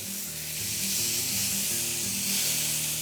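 Top sirloin steaks sizzle steadily in a hot pan, a loud continuous frying hiss with soft low clatter as they are turned, no voices.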